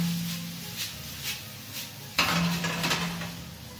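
A pan of linguine puttanesca is shaken on the stove, giving metallic scraping and clattering bursts over a low steady hum, with one sharper clank midway.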